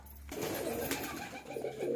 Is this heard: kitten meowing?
no